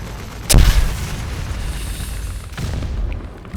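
A bomb dropped from an IL-2 bomber in War Thunder detonates in one loud, sharp blast with a deep rumbling tail under steady engine drone, followed by a second, duller thump.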